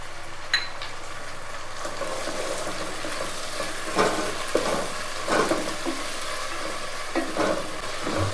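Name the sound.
vegetable kuska masala frying with curd in pan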